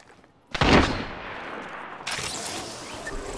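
Gunfire in Apex Legends: a sudden loud burst of shots breaks the quiet, and a second volley follows about a second and a half later, close and harsh.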